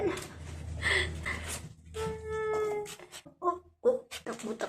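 Several short cat meows and mewing calls, close by, interspersed with soft human vocal sounds and some background noise.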